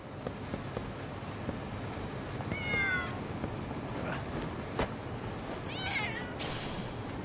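A cat in the video game Lost Judgment meows twice, short rising-falling calls a few seconds apart, fairly clear over a soft ambient background.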